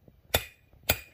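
A small hammer strikes a chisel against stone two times, roughly half a second apart, each a sharp, bright metallic clink that rings briefly, close and loud with quiet between.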